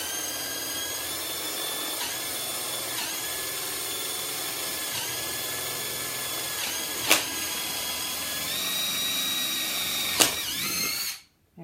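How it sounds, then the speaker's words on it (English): A power drill bores a hole at a measured, unhurried pace, a continuous high whine lasting about eleven seconds with two sharp brief clicks partway, then stopping abruptly; no one speaks. "So I'm just going to drill"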